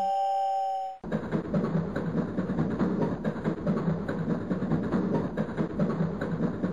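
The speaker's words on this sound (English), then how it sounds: "Hit the whistle for the crossing." A steam locomotive whistle sounds for a crossing in the Train Engineer simulator game, a steady tonal blast for about a second, then a continuous loud rumbling of the train running on alone.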